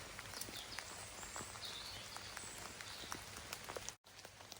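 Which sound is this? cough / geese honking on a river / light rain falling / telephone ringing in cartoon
light rain falling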